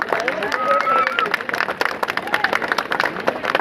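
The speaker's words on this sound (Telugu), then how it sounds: "అందరూ ఒకసారి గట్టిగా క్లాప్." Villagers clap at a Sankranti rangoli contest prize-giving in Rayalam village: a dense patter of many hands beats steadily throughout, with a voice talking over the early part.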